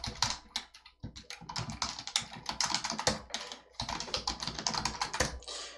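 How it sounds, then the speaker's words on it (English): Fingers type on a computer keyboard, entering a command in short bursts of quick, crisp key clicks broken by brief pauses, close and clear with no talking. "I'm going to go ahead and connect to MySql by typing in opt lamp bin MySql-u root"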